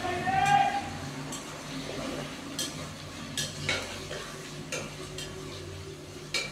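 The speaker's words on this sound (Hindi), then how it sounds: "बीफ डालने के बाद अच्छे से हम इसको मिक्स करेंगे।" Beef is stirred into fried ginger-garlic paste in a pot, with repeated spoon scrapes and clinks against metal over a soft sizzle, close and rhythmic.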